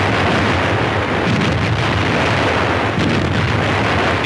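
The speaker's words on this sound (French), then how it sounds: "De jour comme de nuit, les canons mêlent leurs aboiements rauques au grondement des blindés." Wartime cannon fire and explosions near Colmar blend into a dense, continuous roar of booming blasts and rumble, loud and saturated throughout with no clear gaps.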